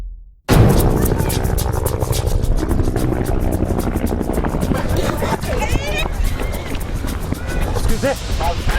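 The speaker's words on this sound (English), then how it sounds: "the UN helicopter has arrived, unannounced" A UN helicopter arrives in South Kivu, its rotor thudding loudly and steadily close by with a continuous engine roar throughout.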